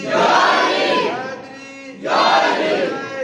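A large crowd at a Milad un-Nabi religious gathering roars a chanted response in two loud collective surges, a brief dip between them, voices blending into a dense massed shout.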